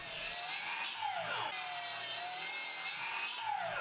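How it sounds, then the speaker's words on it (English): A miter saw cuts through 18mm plywood. Loud, continuous high whine with pitch sweeps as the blade bites, close and without voices. "and then I cut 2 lengths at the miter saw."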